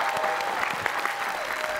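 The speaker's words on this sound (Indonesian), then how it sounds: "tepuk tangan untuk Mas Herman sekali lagi pemirsa" A short burst of studio audience applause for a performer named Herman on an Indonesian television show, dense clapping held at moderate level with a faint sustained tone underneath.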